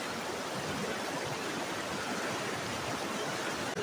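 River rapids at Barangay San Jose in Gandara, Samar, rush in a steady, loud, broadband roar of churning water that holds without a break for the whole stretch, with no voices.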